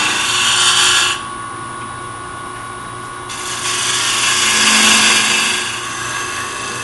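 A wood lathe turns a segmented walnut base, a steady broadband whir with a tool cutting in, dropping briefly to a quieter spin before the cut bites again and swells, continuous and close with no talk.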